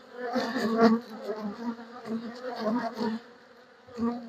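Honeybees buzz around an open hive frame during an inspection of a weak colony that swarmed in September, a close, wavering drone that swells and fades.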